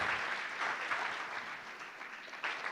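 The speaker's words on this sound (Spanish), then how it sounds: "Denle un aplauso al Señor." A church congregation claps to praise the Lord during a worship service, a steady wash of many hands applauding together at moderate loudness, with no voices over it.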